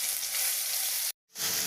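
Green chillies sizzle in hot oil in a kadhai for tempering, along with mustard seeds, cumin and garlic. The hiss is loud and continuous, broken by one brief silent gap before it resumes.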